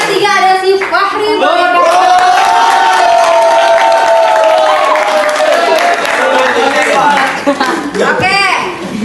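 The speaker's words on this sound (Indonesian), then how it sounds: "Tepuk tangan buat Naira." Classroom students clap and cheer for a classmate, a loud, steady burst of applause mixed with voices and shouts running through most of the stretch.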